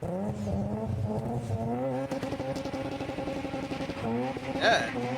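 Street-driven Mazda RX-7 rotary engine revving up close, a loud, high-pitched buzzing drone that climbs in steps and flares sharply near the end, with voices talking over it.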